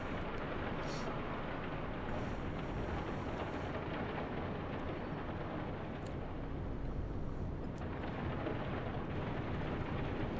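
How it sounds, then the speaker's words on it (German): Steady rain with distant thunderstorm rumble in the UBOAT submarine game, a dense continuous wash of noise with low rolling swells, loud and unbroken throughout, no talking. "Es regnet, wir haben wohl auch Gewitter."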